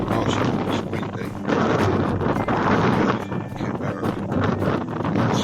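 Strong wind blows over open marshland in heavy, continuous gusts that buffet the microphone with a loud, roaring rush and no voices.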